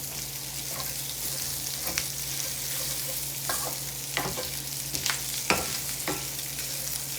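Sausage fries in a cast iron pan with a steady close sizzle, broken by occasional scraping and tapping of a utensil stirring the meat.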